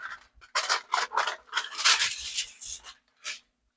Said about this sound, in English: we're going to put the foil over top of it, crimp it down.